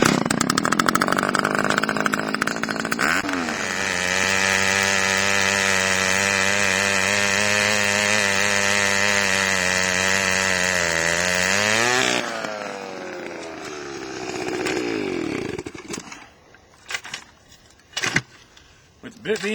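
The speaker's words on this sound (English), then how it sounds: "The dirt stops the auger, keeps it from moving, keeps it from digging." Gas-powered post-hole auger with an oversized bit boring into dirt for a 6x6 PVC post, a loud sustained engine drone that shifts pitch under load, then revs down and stops with scraping and handling noises after.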